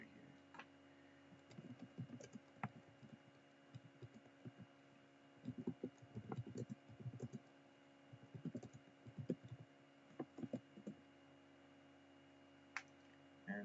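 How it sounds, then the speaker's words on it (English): Keystrokes on a computer keyboard come in irregular quick bursts of soft, close clicks and thumps over a steady low electrical hum, with short pauses between runs of typing and no one speaking. "Let me type it here."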